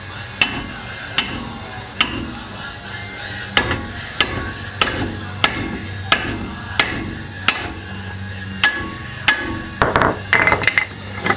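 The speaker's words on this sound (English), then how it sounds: "Big old fat sledge here." A heavy sledgehammer strikes a rusty Subaru part again and again, giving sharp metallic clanks at an irregular, roughly one-per-second pace, loud and close, with a quicker flurry of blows near the end.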